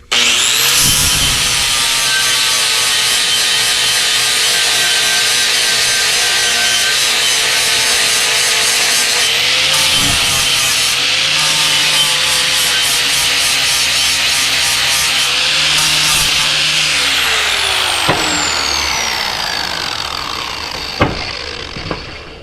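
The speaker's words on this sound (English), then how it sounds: "Had to break out the old trusty electric grinder." A cordless electric grinder cuts metal on a heavy lift hook being fabricated, giving a continuous loud, close, harsh whine that spins down near the end, followed by a couple of sharp knocks.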